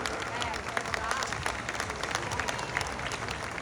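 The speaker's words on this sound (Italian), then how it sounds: "un applauso fortissimo per te" A crowd applauds steadily, a dense patter of many hands clapping at moderate distance, with a voice speaking over it.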